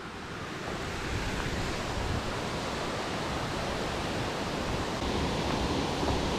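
A river flows in a steady, dense rush of water that fills the whole clip evenly, loud and close, with no voices.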